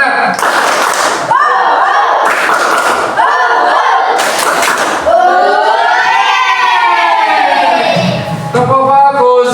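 A Grade 4 classroom of children claps and shouts a rhythmic chant together, loud and close. Bursts of clapping alternate with group voices, and a teacher's voice leads.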